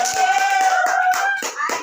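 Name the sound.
classroom clapping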